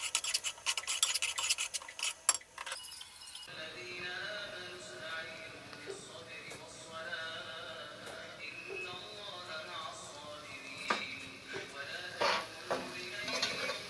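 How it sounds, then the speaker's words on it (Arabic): Onions stirred as they fry in a pan for stuffed cabbage, with soft scraping and faint sizzling and sharp clatters of a spoon early on, while someone talks over it. "بفضل اقلب البصلة بالمنظر ده، وبعدين بستنى لغاية ما توصل لحالة الدبلان"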